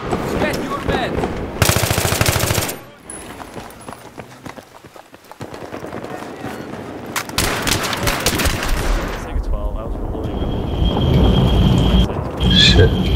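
Automatic rifle bursts and heavy gunfire ring out in the Battlefield 3 multiplayer match on the Grand Bazaar map, loud and close, with dense rattling volleys and quieter lulls, layered with chaotic battle noise and team voice chat.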